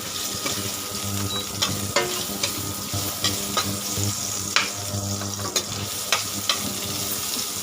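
Onions fry slowly in a pan with a steady low sizzle, while a spoon scrapes and taps against the metal in a regular rhythm every second or so, close up and without talking.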